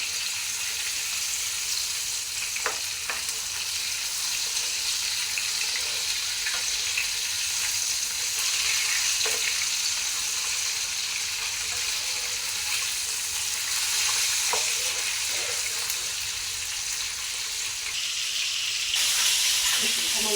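Rani fish frying in a pan of oil, a steady close sizzle filling the whole stretch, with a few soft clicks and taps as the pieces are turned to the other side.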